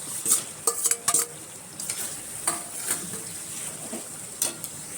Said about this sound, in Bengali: এই পর্যায়ে আমি মাছের মাথাগুলো দিয়ে একটুখানি কষিয়ে নেব